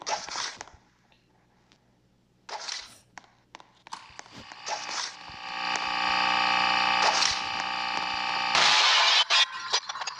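Entity despawn sound in an April Fools update of a horror video game: scattered crunchy, glassy cracking bursts build into a loud, sustained buzzing, tonal roar that swells near the end and then cuts off abruptly.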